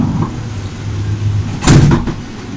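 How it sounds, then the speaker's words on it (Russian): A Moscow monorail train's door slides shut with a loud thump and rattle near the end, after a steady hum of the waiting train. "Осторожно, дверь закрывается"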